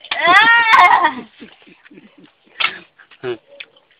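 Dogs whimper and yelp close by, a drawn-out whine at first, then a few short sharp yips separated by quiet gaps.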